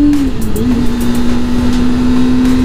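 A Kawasaki ZX6R or ZX25R sport bike engine with an opened, welded exhaust holds a loud, steady high-rpm drone after a brief dip in pitch at the start.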